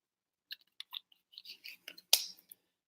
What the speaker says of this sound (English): You guys watch me shuffle, right?